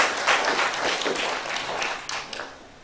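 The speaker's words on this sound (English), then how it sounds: "let's give him a round of applause for that" Conference attendees at a university international conference applaud a speaker, a dense spell of clapping that holds steady and then tapers off toward the end.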